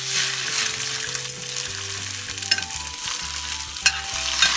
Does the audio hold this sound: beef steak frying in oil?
yes